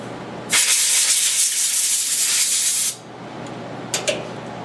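Compressed air blasts into a Lee APP reloading press set up for de-capping 9mm, one loud steady hiss lasting over two seconds, then a couple of short, sharp puffs.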